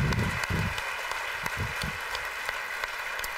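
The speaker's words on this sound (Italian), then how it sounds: "Facciamo un grande applauso." Audience at a Sicilian cabaret show in Catania clapping, a moderate patter of applause that fades to scattered claps over a few seconds.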